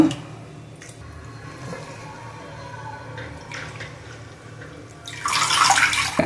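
Water drains from boiled spinach in faint, scattered drips that build into a louder splashing pour near the end.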